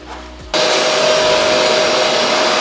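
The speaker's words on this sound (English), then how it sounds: "So I'm going to go and turn the vacuum on" A shop vacuum, used for dust extraction while hand-sanding spray poly filler on a 1971 Camaro body, switches on after a half-second of quiet and then runs as a loud, steady whine on its own.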